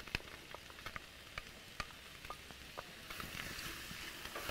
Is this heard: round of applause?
no